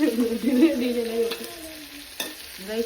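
Food is stirred in a pot with ghee, the spoon scraping continuously against the metal over a gentle sizzle, with one sharp knock near the end.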